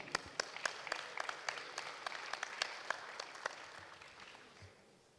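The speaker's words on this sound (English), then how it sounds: "A round of applause for Stefan." Audience applause for Stefan, the moderator and host at a summit talk, with many distinct claps spread across a moderately sized crowd that slowly thins and fades toward the end.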